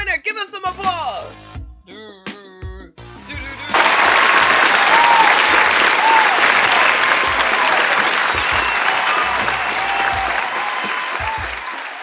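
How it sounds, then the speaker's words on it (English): Applause from a radio-show audience breaks out loudly after some talk and music, a dense sustained clapping that carries steadily for several seconds. "Give us some applause."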